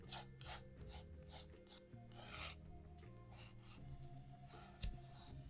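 Eraser rubbing out a pencil sketch in a sketchbook, heard as repeated close scrubbing strokes in short bursts with brief pauses between them.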